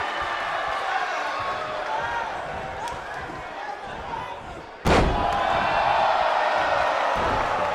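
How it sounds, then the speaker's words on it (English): A wrestler is slammed down onto the mat with a bomb move at a wrestling event: one loud, sharp thud cuts through continuous commentary and crowd noise, and the busy arena roar keeps going after the impact. "Now Carisco has Boleska up and plants him down with the Ricola bomb."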